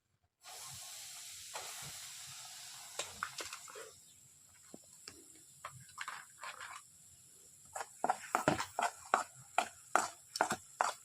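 Wheat flour roasting in ghee over low heat for sukhdi gives a steady soft sizzling hiss, broken by spoon scrapes and taps that grow quicker and louder toward the end.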